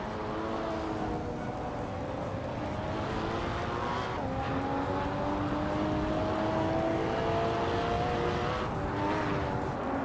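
A vintage 1968 Morgan Plus 8 racing car engine drones steadily, its pitch climbing and settling as it revs through gears, with continuous road and tyre noise and other engines passing faintly.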